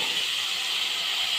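Cut potatoes frying in hot oil for allu gojju sambar, a steady broadband sizzle and hiss held evenly close up throughout, with no talk.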